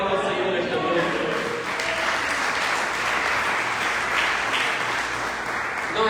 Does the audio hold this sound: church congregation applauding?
yes